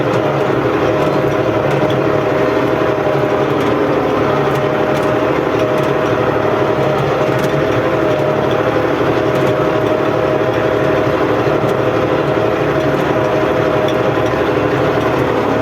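A tractor engine drones steadily while plowing a field, a constant unbroken rumble that holds the same loud level throughout with no pauses or shifts.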